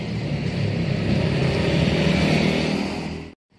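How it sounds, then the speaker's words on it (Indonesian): A Yamaha F1ZR two-stroke motorcycle engine runs with a buzzy, rattling drone that holds steady, then cuts off abruptly at the end. "Jadi motor ini adalah motor 2 tak ya."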